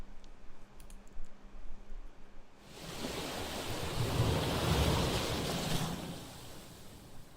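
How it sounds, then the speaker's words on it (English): Ocean waves wash in from a video game shoreline, a broad surf roar swelling in after a quiet stretch of clicking, building to a full rush and then easing slightly, with no voices. "Do you hear that? It's the ocean, cutie."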